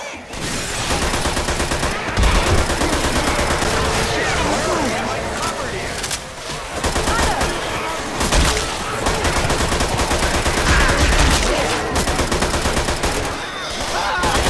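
Dense, sustained gunfire from Left 4 Dead 2 zombie shooter gameplay, with rapid bursts of shots repeating across the scene, pausing briefly and resuming, while characters talk over the shooting.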